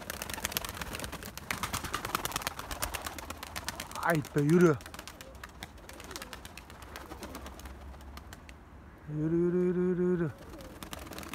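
Tumbler pigeons coo in a busy coop, with two clear rolling coo phrases standing out above soft background bird noise while someone speaks briefly nearby.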